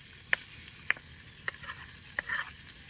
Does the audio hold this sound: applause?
no